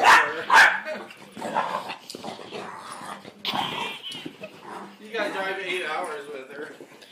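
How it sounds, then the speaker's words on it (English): A dog barks loudly twice at the start, then gives further barks and whimpers while excited voices talk over it throughout. "stop barking"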